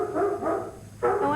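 A sick dog gives a few short barks or yelps in quick succession, close and fairly loud, with a brief pause before the last one.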